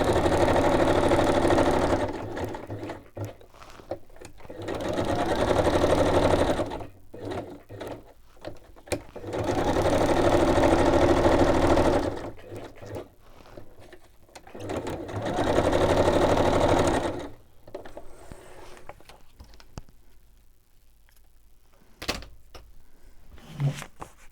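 A sewing machine stitching around textiles runs in several loud, steady bursts of a few seconds each, its motor whirring close by with short pauses between runs and quieter handling sounds at the end.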